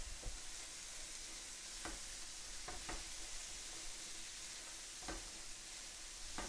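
Vegetables for Thanksgiving stuffing sauté in a pan with a steady, quiet sizzle, broken by a few soft scraping stirs and clicks of a utensil against the pan.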